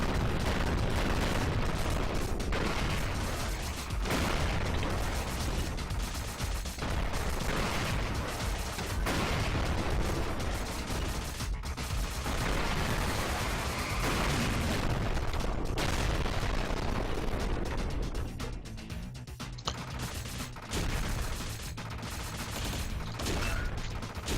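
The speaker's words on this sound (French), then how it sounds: "on a des bruitages, ça explose." Loud, continuous barrage of explosions and gunfire from the shoot-'em-up video game Gigantic Army, dense booms and blasts layered over game music for the whole stretch, with no talk.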